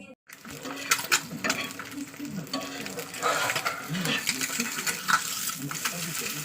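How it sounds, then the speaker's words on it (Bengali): An egg frying in a pan, a steady close sizzle with frequent scraping and tapping of a spatula against the pan, fairly loud and with no talking. "ডিমটা ভাজা করে নিই।"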